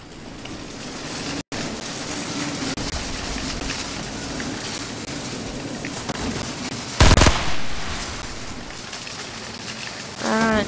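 Sustained rattling gunfire in a video game, a dense steady stream of shots running throughout, with a brief louder burst midway and a short gap early on.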